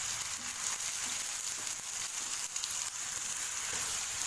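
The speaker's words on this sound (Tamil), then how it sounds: "இஞ்சி, பூண்டு, பட்டை, கிராம்பு, ஏலக்காய், சோம்பு இது 3 சேர்த்து அரைச்ச பேஸ்ட் இதில் ஆட் பண்ணிக்கலாம். பச்சை வாசம் போகிற அளவுக்கு நல்லா வதக்கி விட்டுக்காங்க." A ground paste of ginger, garlic, cinnamon, cloves, cardamom and fennel sautés with mint in a pan for a chicken gravy, making a soft, continuous sizzle at close range.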